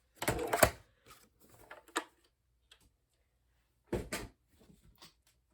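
Scrap cardstock is cut with a paper trimmer, heard as two close, crisp sliding cuts with scattered small taps and rustles in between.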